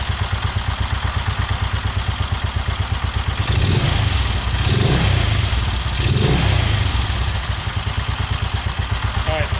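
A 1969 BSA Starfire motorcycle engine idling close by with a fast, loud, even thump, revved twice in quick succession before dropping back to idle.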